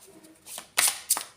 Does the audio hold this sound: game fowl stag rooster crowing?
no